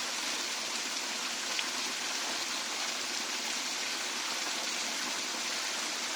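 A river flows past a quiet riverside with a steady, even rushing of water, continuous and fairly close, with no voices.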